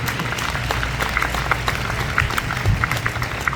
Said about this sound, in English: So can we all please give those standing a round of applause for all of their love and compassion?